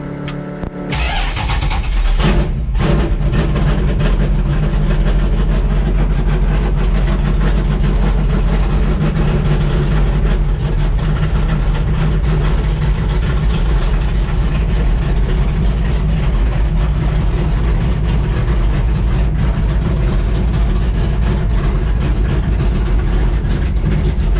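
A 1967 Dodge Dart's engine catches with a rough burst, then settles into a loud, steady, deep rumble as the car idles and rolls out of a garage.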